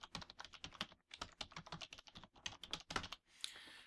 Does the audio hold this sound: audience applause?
no